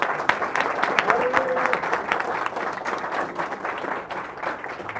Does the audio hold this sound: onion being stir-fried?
no